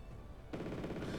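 Sustained burst of gunfire erupts in a Wargame Red Dragon battle as Spetsnaz infantry get shot up, dense rattling fire starting abruptly after a quieter rumble and continuing steadily.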